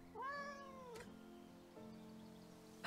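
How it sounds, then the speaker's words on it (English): A cat in the video game Behind The Frame lets out one clear, drawn-out meow near the start, followed by quiet game ambience and a soft click. "Ah, it's the cat."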